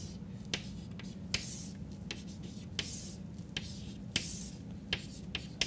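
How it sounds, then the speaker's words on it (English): Numbers being written out by hand in a short series: soft scratchy strokes with sharp little taps at irregular intervals, close and quiet over a steady low hum, with no talking. "I'm going to write out all the numbers."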